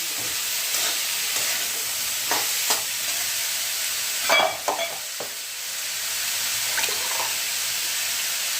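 Vegetables sauté in a pan with a constant moderate sizzle, broken by scattered scrapes and clinks of a spatula stirring, one louder clatter in the middle, and no talking.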